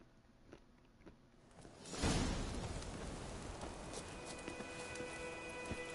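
Roach, the horse in The Witcher III, breaks into a gallop in the game, a rushing burst of hoofbeats and movement that rises suddenly and then carries on as a steady rumble with faint clip-clop accents.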